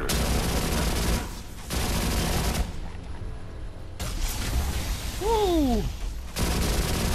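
Loud bursts of rifle gunfire from the video game Alien Rage come in rapid volleys, separated by short pauses, with a brief descending whistle-like tone near the end.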